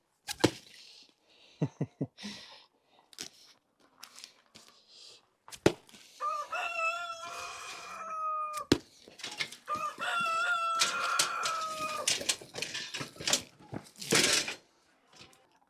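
Backyard chickens on a farm prepping high tunnels for spring planting: a rooster crows twice in drawn-out harmonic calls, amid scattered clucks and sharp handling noises, close and fairly loud.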